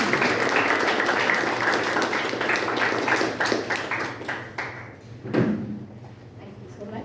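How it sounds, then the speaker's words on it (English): Audience round of applause at a meeting, a crowd clapping steadily that thins out and fades toward the end, followed by a thump and quieter room noise with some talk mixed in. "Please give a big round of applause."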